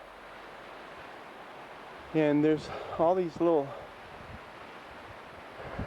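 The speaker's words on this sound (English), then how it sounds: "streams of water coming out of the mountain" Small streams of water run out of a mountainside near Mount Cook, New Zealand, making a steady, soft broadband rush throughout, with someone speaking briefly over it in the middle.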